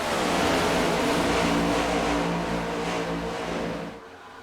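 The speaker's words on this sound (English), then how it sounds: "John Hagan gets a good restart there." Stock race cars of the ARCS A2 Cup Series roar hard on a restart during a 200-lap race, a loud dense engine blare from several cars building together and fading slightly at the end, with no voices.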